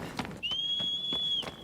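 A sustained high whistle calling a horse in Shadow of the Colossus, holding steady for about a second over faint background sounds and soft thuds.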